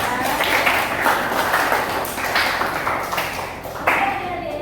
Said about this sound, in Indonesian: Baik, tepuk tangan ya.